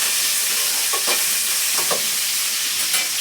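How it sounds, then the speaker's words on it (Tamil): Curry leaves, coriander and two dried chillies sautéing in a pan: a constant hiss of frying under a few soft scrapes and taps as the mix is stirred, close and fairly quiet, with no voices. "நல்லா வதக்குறேன்"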